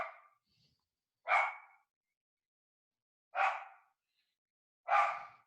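A dog barks three times, then once more, in sharp separate yelps with pauses between them, fairly close and alone against silence.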